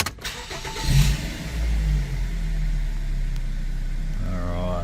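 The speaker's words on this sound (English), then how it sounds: "Next step is to start the vehicle up and get it to at least 90 degrees" A Mazda 3 engine cranks and catches, revs briefly, then settles into a steady idle that runs on close by with no talk.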